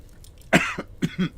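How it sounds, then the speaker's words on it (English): A man coughs on a podcast-style show, one sharp rasping cough followed by a couple of shorter throaty coughs, close to the mic in an otherwise quiet room. "me coughing through the whole show, that's fucked up"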